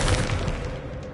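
Confringo and Incendio spells bursting in Hogwarts Legacy, a loud booming blast with crackling fiery spread that fades over about a second.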